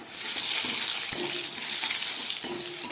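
Salted pointed gourd (potol) frying in hot oil in a pan gives a steady, close hiss of sizzling, broken by two brief clinks, with no voices.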